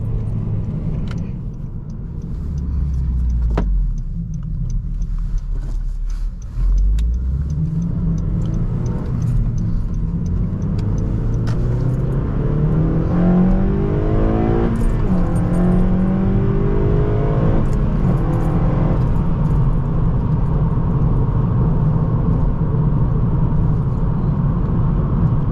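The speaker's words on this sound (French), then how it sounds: "il y a un petit peu de bruit de route tout de même puisqu'on est en pneus d'hiver" Steady road noise and engine rumble inside a ninth-generation Honda Civic Si on winter tires, a continuous low drone from the cabin with gear changes and rising revs, with no talking.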